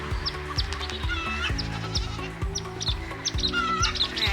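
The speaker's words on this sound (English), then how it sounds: "Alright, so here are the goats." Several goats on a small farm bleat close by in quick, overlapping wavering calls, nearly continuous throughout, with faint bird chirps above and no talking.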